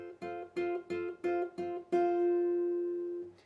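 Guitar chord of three notes plucked together at full tempo from a song: five quick, even strums followed by a final chord left ringing for over a second, close and clean with no talking.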